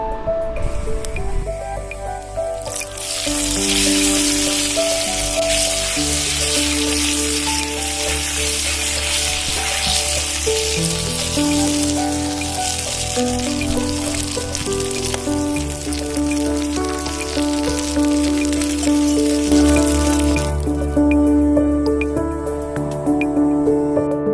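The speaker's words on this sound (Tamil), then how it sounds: "நெய் ஊற்றி முந்திரி திராட்சை நல்லா ப்ரௌனிஷாக வறுத்துக்கலாம்" Cashews and raisins frying in ghee in a pan, a steady loud sizzle and crackle running throughout, with a musical background playing over it.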